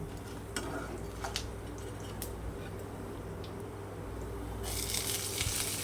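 Peanuts and chana dal fry in a pan with a low, steady crackle broken by scattered clicks and scrapes. The frying swells into a brighter, louder hiss toward the end.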